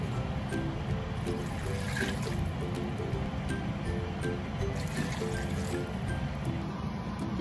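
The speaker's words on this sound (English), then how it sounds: "You also need to pour 3 cups of cold water." Cold water pours into a pot while making Thai green curry, a continuous splashing, gurgling fill heard close and steady throughout with no talking.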